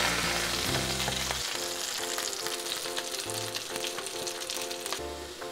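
Pieces of rohu fish fry in oil in a non-stick pan, giving a dense, continuous crackling sizzle with bursts of spattering, close and fairly loud, and no voices.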